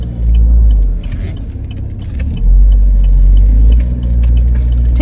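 A car pulls out of a busy car park, its engine a steady low rumble that swells and eases as it moves off, close and continuous with no talk.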